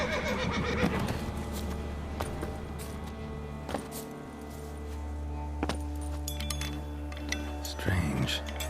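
Roach, Geralt's horse in The Witcher 3, neighs loudly and clops along with jangling tack over a constant low in-game drone, with a voice speaking near the end.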